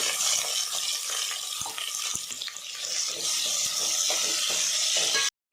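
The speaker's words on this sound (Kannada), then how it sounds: "ಈರುಳ್ಳಿ 2 ಹಾಕ್ಬಿಟ್ಟು ಫ್ರೈ ಮಾಡ್ಕೋಬೇಕು." Steady, loud sizzling of onions and curry leaves frying in hot oil, with a few faint clinks, then it cuts off abruptly near the end.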